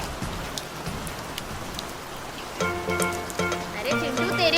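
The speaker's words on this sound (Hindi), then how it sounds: "तेरे ऊपर बारिश हो रही है" Steady rain hisses throughout, with cartoon music and voices rising over it in the second half.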